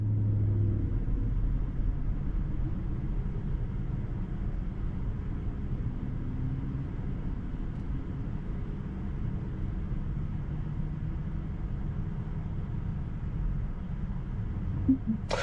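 Tesla driving itself on FSD 13.2.7 while reversing into a Supercharger parking space, heard as a steady low rumble of road and motor noise from inside the cabin, continuous throughout with no speech.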